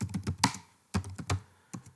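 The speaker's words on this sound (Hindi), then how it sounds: "लेक्चर के दौरान जब मैं टाइप कर रहा होता हूँ" Computer keyboard typing during a Python programming lecture: several quick bursts of crisp keystrokes separated by short pauses, close and clear with no talking.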